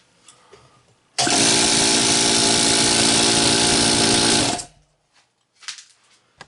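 A repaired air compressor motor starts abruptly and runs loud and steady for about three and a half seconds with a dense buzzing whine, then cuts off and winds down, leaving quiet room sounds afterward.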